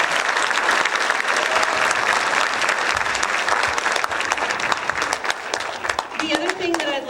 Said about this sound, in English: I'd like everybody in this audience to clap for our students that take the best out of education